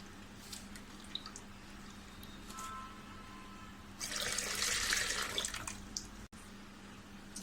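Soaking water drained from rice is poured into rice batter for Malvani ghavane, a steady close splashing pour lasting a couple of seconds after faint kitchen clatter.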